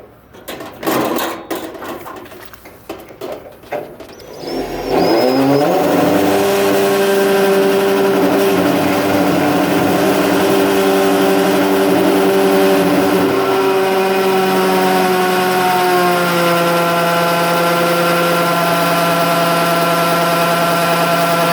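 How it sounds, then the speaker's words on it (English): A power drill whines steadily at high speed for a long stretch, drilling out a grill part after a few seconds of clattering handling noise, loud and close. "So you'd have to go in like this with the drill."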